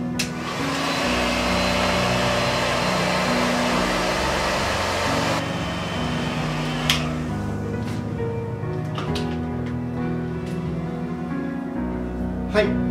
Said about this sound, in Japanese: エアレスドライヤーのこのアタッチメントつけて、こちらでちょっと乾かしてみたいと思いますね